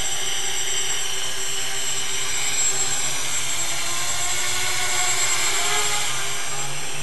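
A small X-configuration multicopter flown on a KK2 flight controller with auto-level, its motors throttling up into a steady, loud, high-pitched buzzing whine that holds close by for the whole stretch without any voices.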